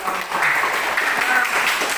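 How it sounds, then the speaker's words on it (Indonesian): A short burst of dense applause from a class of students, steady clapping throughout with a faint voice underneath. "Tepuk tangan dulu."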